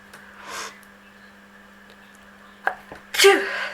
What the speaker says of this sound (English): Oh, I think I want to sneeze.